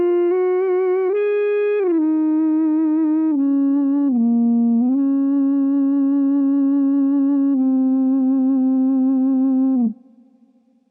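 Sustained electric guitar notes run through a TC Electronic Aeon sustainer pedal, producing smooth synth-like ambient tones that glide between pitches with no pauses, loud and close, then cutting off into a faint decaying tail near the end.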